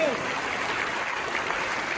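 A church congregation at a large revival service claps steadily, a dense continuous wash of applause heard up close and loud, with no speech over it.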